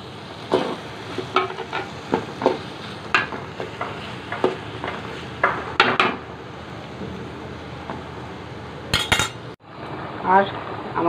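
Food frying and being stirred in a pan while a Ramadan iftar meal of rice and beef stew is prepared, with repeated scraping and clinking strokes over a steady low sizzle, a brief pause, then more stirring.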